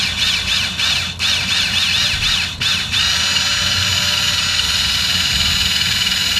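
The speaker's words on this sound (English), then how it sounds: "you'll hear this motor run" Electric parking brake motor on a Lexus RX 350 F-Sport running during rear brake pad replacement, a close, high whining buzz pulsing in short repeated bursts for about three seconds, then a steady hum against background noise.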